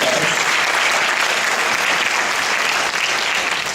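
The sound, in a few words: audience applause at an awards ceremony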